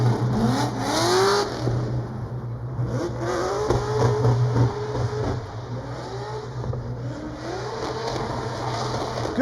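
Drift car at Orange Show Speedway during a qualifying run at HOTPIT Autofest, its engine revving and shifting steadily on and off throttle, loud and close throughout.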